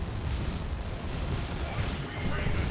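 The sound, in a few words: artillery barrage in Dawn of War 2: Retribution, a video game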